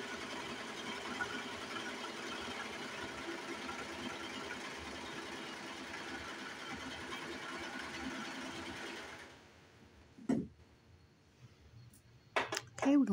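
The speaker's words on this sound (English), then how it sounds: "I'm gonna cut that off with my serger" A serger overlock sewing machine runs steadily for about nine seconds, trimming the fabric end of a headwrap, then stops, leaving a few brief clicks and handling noises near the close.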